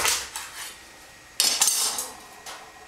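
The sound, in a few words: knife cutting a butternut squash in half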